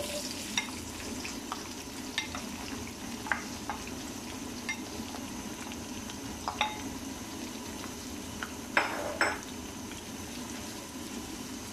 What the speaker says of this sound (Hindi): प्याज हम इसमें ऐड कर देंगे।